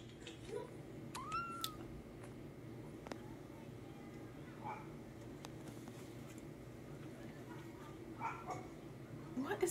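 A cat meows faintly a few times over a quiet background, with occasional small yips mixed in.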